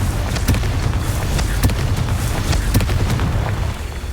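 Confringo fire spell from Hogwarts Legacy, landing as a string of deep, booming explosive bursts roughly once a second over a steady rumbling game backdrop.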